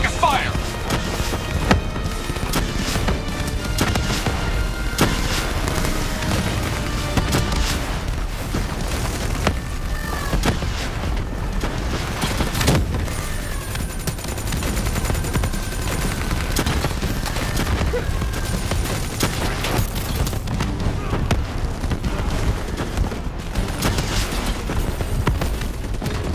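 Sustained gunfire rattles through a Call of Duty Black Ops 3 campaign battle, loud bursts and booms stacking densely over the whole stretch, with shouted voices breaking in at moments.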